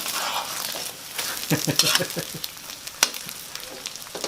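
Beaten egg for an omelette fries in hot oil, making a steady, close sizzle with occasional crackles and scraping stir sounds, without speech.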